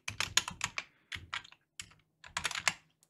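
Fast typing on a computer keyboard while entering text in the XTool Creative Space laser software, with crisp clustered keystrokes in bursts separated by short pauses, close and alone with no talking.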